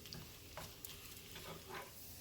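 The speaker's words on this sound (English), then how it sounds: "while my corn tortillas are frying up" Bite-sized corn tortilla pieces fry in oil with a faint, steady sizzle, broken by soft crackles and stirring sounds, and no talking.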